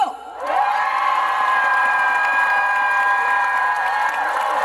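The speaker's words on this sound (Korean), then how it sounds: "자, 괜찮으면 함성과 박수!" A crowd at an outdoor youth trot song festival in Samcheonpo cheers and applauds, with whoops and high-pitched shouts swelling into a loud, sustained roar right after a short announcement at the start.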